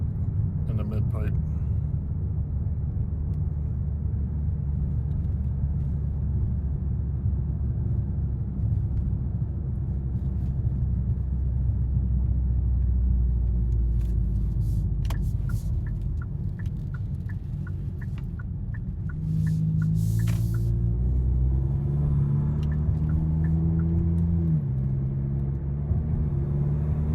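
A Kia K5 GT-Line with a custom airbox mod drives through a neighborhood; its muffler and mid-pipe give a continuous low drone that swells slightly as the car accelerates near the end.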